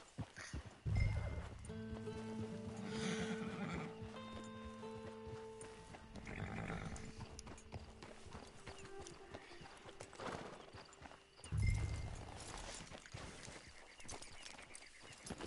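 Horse hooves clip-clop in the video game Red Dead Online, a steady trotting rhythm with louder thumps and a horse's snort near the start and again later, over faint game ambience.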